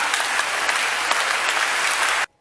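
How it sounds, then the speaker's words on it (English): A congregation at an Anglican diocesan synod thanksgiving service in Osun State, Nigeria, claps in a dense, steady burst of applause lasting a couple of seconds. The clapping ends abruptly. "Please, if you want to clap, clap."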